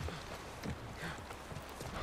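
Soft horse hooves clip-clop in The Last of Us Part I remake on PS5, a faint steady walking rhythm under low background ambience.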